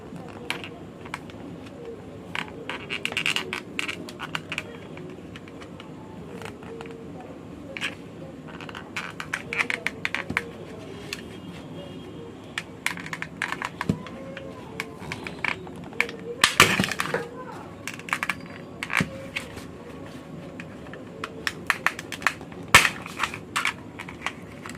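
Plastic casing of a battery trimmer being gently pried open with a tool, producing scattered small clicks, cracks and snaps over a low background hum, close and intermittent, with someone speaking quietly at times.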